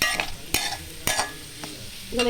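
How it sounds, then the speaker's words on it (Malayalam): Paneer curry base sautéing in a pan, a steady close sizzle broken by a few sharp scrapes and knocks of a spatula stirring it. "നന്നായി വഴറ്റണം"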